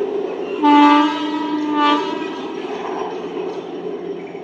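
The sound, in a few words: Sealdah 12-coach local train passing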